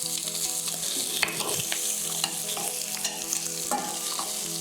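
Prawns, chili and garlic sizzle loudly in hot oil as they are stirred around a pan, the bright frying hiss continuous with scattered scraping knocks from the utensil.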